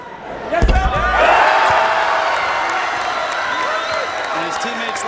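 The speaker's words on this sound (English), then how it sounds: "The crowd really pulling for him as well" Crowd at a BYU versus Pepperdine college volleyball match cheers for a player, starting with a sharp smack and then holding a loud, sustained roar with applause and shouting, a commentator talking over it.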